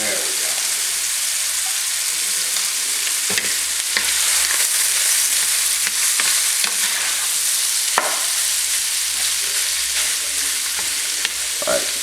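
Ground meat browning in a pan for a spicy chili lasagna meat sauce, a loud steady sizzle with occasional scraping stirs, close and continuous, with no talk over it.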